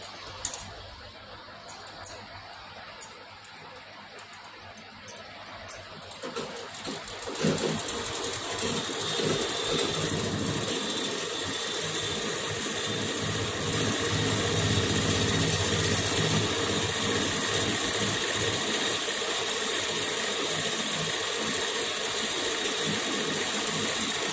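Sewing machine stitching a blouse, a soft mechanical patter that starts quietly and intermittently, then runs as a steady, continuous whir from about the middle of the clip onward.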